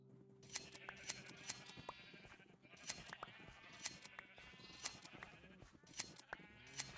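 Blocky Minecraft sheep bleat again and again at a steady pace, mixed with sharp snipping clicks from shears, all clear and close in the game sound.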